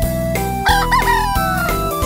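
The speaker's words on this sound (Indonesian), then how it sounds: "yang ini namanya ayam jantan." A rooster crows loudly and close, one full drawn-out call over a steady low hum.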